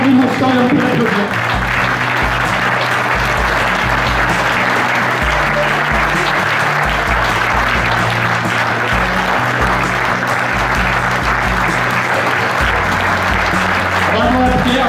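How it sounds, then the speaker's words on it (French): Sustained audience applause at a regional Auvergne event in support of farming, loud and steady for the full length, with voices and a low tone faintly beneath. "on a le droit d'avoir une émotion et on peut l'applaudir"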